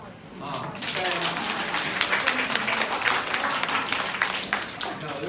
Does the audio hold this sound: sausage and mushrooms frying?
no